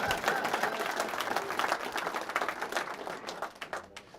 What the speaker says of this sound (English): Give Tim a round of applause as he makes his way to the stage